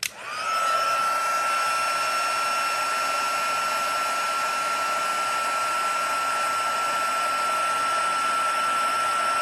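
A heat tool blows a steady loud whirring stream of hot air over copper embossing powder, its high tonal whine constant and close after a brief start, with no talk.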